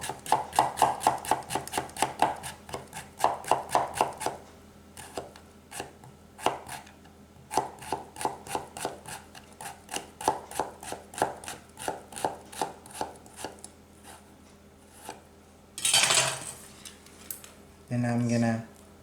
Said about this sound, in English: I'm gonna slice into very thin slice